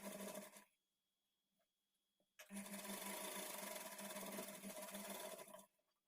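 An electric sewing machine stitches blouse lining in two bursts of steady whirring, a short run that stops, a quiet pause with faint handling clicks, then a longer continuous run before halting.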